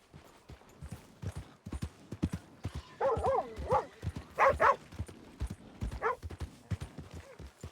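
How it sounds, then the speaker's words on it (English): Inside the video game Red Dead Redemption 2, a dog barks a few short times at mid distance over the steady clip-clop of horse hooves on the ground, with no speech. "What's the dog? I hear him barking."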